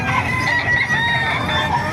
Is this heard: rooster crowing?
yes